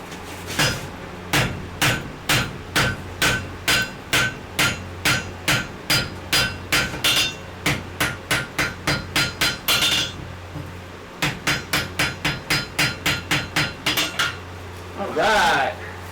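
A hammer forging hot wrought iron on an anvil, ringing in loud, close, evenly spaced metallic strikes with a brief pause partway, then a final scraping brush across the metal.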